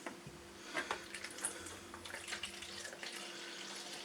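Milk pouring into a bowl for Yorkshire-pudding-style batter in a home kitchen, a soft continuous liquid trickle with a few small splashes, fairly quiet and close, no talking.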